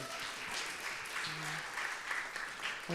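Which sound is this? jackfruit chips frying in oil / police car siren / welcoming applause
welcoming applause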